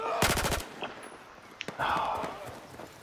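SR-2 submachine gun fires in Battlefield 4 on the Golmud Railway map, a quick rapid burst of shots near the start and a few scattered single reports afterward, under faint game noise and brief talk.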